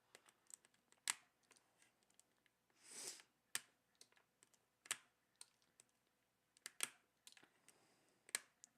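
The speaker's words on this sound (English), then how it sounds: "I did a sound test on this keyboard before modification" Typing on a custom mechanical keyboard in its stock, unmodified state: scattered individual key clacks with irregular gaps between them, and a brief rustling burst partway through, close and alone with no talk.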